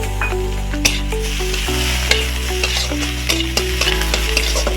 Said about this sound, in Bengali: আদাটা পেঁয়াজের সঙ্গে একটু ভালো করে নেড়ে চেড়ে দিয়ে দিচ্ছি